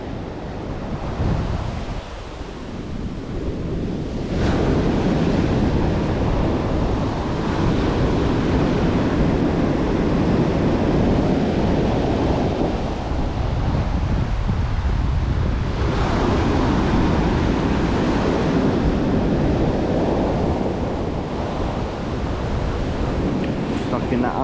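Waves break and surge over the shingle of Chesil Beach in winter, a loud continuous roar with heavy wind buffeting the microphone and swells rising and falling throughout.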